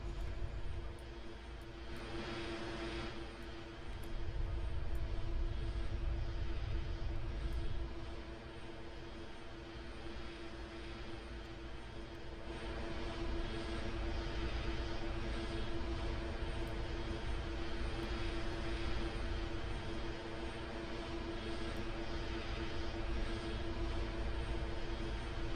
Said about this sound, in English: We're gonna land at the Qatar airport with UPS